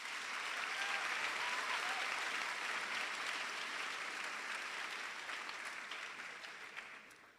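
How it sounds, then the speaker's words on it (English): A school speech day audience applauds in a dense, sustained wash of clapping that holds steady for several seconds, then gradually tapers off at the end, with no talking over it. "Another round of applause, please."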